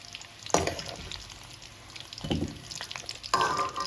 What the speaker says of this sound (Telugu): ఈ విధంగా లైట్గా ఫ్రై చేసుకుని జారాలో తీసేసుకుందాం.